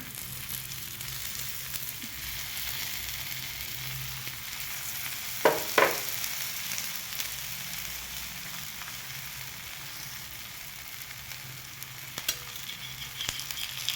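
Methi thalipith, a flat fenugreek flatbread, frying in a pan with a little oil dribbled around its edges, giving a soft, continuous sizzle with a couple of sharp clatters midway and no talking.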